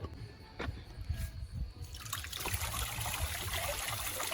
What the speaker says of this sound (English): we're gonna turn on the waterfall